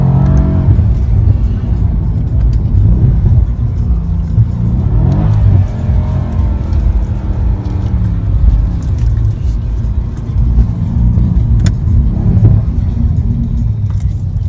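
A Mercedes-AMG C63 engine revs with a deep, steady rumble for the whole stretch, the pitch rising and falling with throttle, close and loud, with faint voices underneath.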